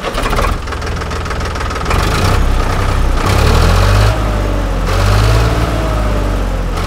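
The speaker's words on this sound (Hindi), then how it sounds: "ट्रैक्टर की मैं एक बार आपको आवाज़ दिखा देता हूँ" A Sonalika DI 745 III Sikander tractor engine runs close by with a loud, steady diesel knock, its pitch shifting slightly as the throttle eases up and down.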